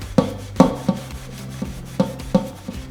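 Scrubbing a burned pan with Bar Keeper's Friend cleanser, giving a handful of short rubbing strokes back and forth, close and fairly loud, with no talk.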